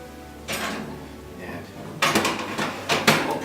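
A roast going into a home oven: clattering pan and rack noises with a metallic knock midway, then louder clanks and shuffling near the end, close by with faint background voice.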